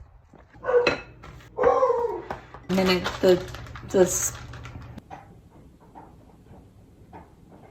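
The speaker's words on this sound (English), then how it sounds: "you can hear my dog playing with her bone" A dog gnawing and playing with her bone indoors gives scattered clacks and scraping knocks, fairly close, while someone talks over them at first before the sounds continue more faintly.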